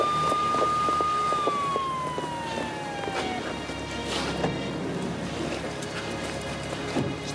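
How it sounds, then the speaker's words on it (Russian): An ambulance siren tone sweeps down as the vehicle pulls up outside, heard at moderate distance amid engine and street noise, with scattered clatter and no speech. "Скорая приехала, вот, вот они, вот."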